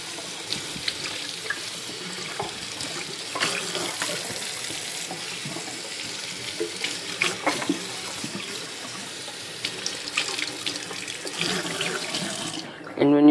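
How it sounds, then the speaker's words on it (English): Warm water runs from a sink tap in a steady, rushing stream while shop vac water-filtration parts are rinsed, with occasional light clatter and handling noises. "Just turn on some warm water and rinse them all clean."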